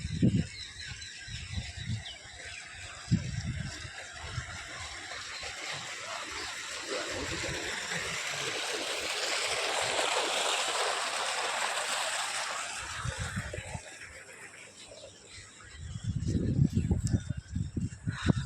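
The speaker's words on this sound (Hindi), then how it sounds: "मकाम में पानी चल रहा है।" Water running through a field channel, a steady broadband rush that swells in the middle and fades later, with intermittent low thumps and handling noise around it.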